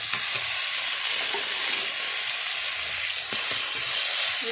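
Ground paste of tomato, ginger, onion and cumin sizzles and spits in hot oil with green chilli and bay leaf, a dense close hiss with occasional scraping stirs.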